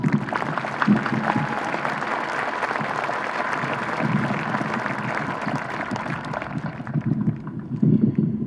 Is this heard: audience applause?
yes